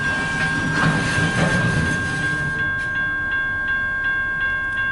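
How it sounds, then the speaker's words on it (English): A long mixed-freight manifest train grinds to a halt, with rumbling cars and metallic squeal giving way to faint rhythmic clanks as the wagons settle, heard from nearby. "What was that noise? The train car's stopping."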